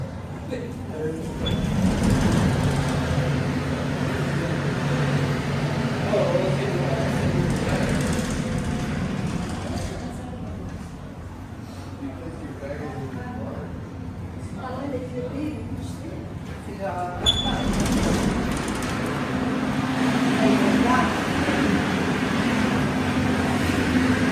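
A Mount Washington cog railway train descending the mountain, a steady low rumble and rattle of the rail car passing nearby, with people talking and cheering over it throughout.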